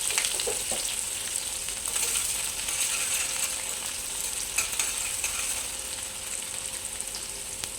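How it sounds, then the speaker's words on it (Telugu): Onion frying in hot oil with cumin, crushed garlic and tempering spices for a potato curry: a bright, steady close sizzle broken by a few utensil clicks and stirring scrapes, with no voices. "ఇప్పుడు ఆనియన్ వేసుకుందాం."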